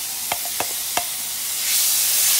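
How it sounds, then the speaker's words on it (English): Rice and moong dal tipped into a hot pot for ketchori, giving three sharp clatters followed by a steady sizzle that swells louder toward the end, with no talking. "Now you add the rice and that moong bean or moong dal."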